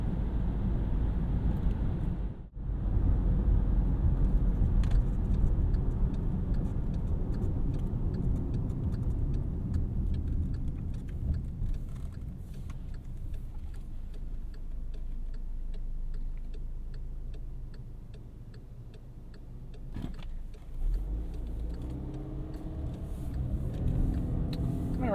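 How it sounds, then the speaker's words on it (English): A 2014 Volkswagen Tiguan S 4Motion with a 2-liter turbo engine accelerates, its steady engine drone and road rumble heard from inside the cabin, with a faint rhythmic ticking and a brief dip in level partway through. "Accelerates pretty zippy for being a little 2-liter turbo."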